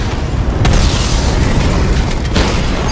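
Video game missile explosions in Batman: Arkham Knight roar in a loud continuous rumble, with a couple of sharper blasts cutting through the booming noise.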